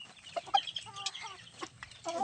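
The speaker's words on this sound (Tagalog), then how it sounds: "Manok." Chickens on a farm cluck in short, faint bursts, with a few squawks and soft clucks scattered across a couple of seconds, fairly quiet and close without talking.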